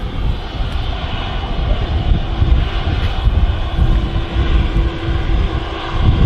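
A Hainan Airlines Airbus A330 thunders on departure at Manchester Airport, a loud sustained broadband engine roar that holds steady throughout with no talk.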